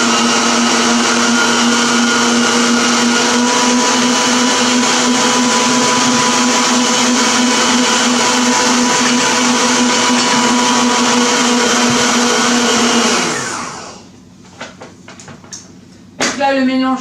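Electric mixer whirring steadily as it beats cake batter for a Bavarian Yule log until pale, loud and continuous for about thirteen seconds before switching off, followed by a few faint clinks and handling noises.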